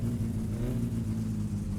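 A car engine idles steadily in the driving game My Summer Car, a continuous low rumble with a faint whir that holds an even level throughout, with no talk over it.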